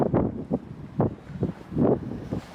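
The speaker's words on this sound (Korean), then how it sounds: "바람" Outdoor wind buffets the microphone in uneven gusts, rising and falling several times in low, rumbling bursts during a spring walk.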